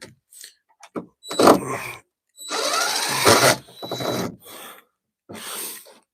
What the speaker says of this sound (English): Okay, now I can see this screw, and maybe I can even unscrew it.